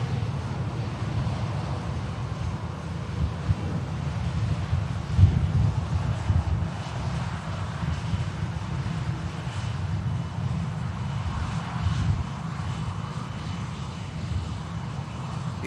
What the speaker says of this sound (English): A couple of aircraft on the approach as well